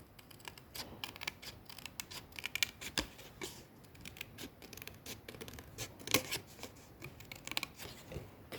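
Scissors make quiet, close snips as they trim paper for a junk journal cover, in short irregular cuts with faint handling rustle between them and no talking.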